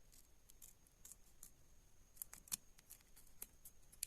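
Scissors snip away excess material near a coil on a homemade automotive power supply built from microwave scrap, a series of quiet, sharp clicks and cuts spaced irregularly over a faint background.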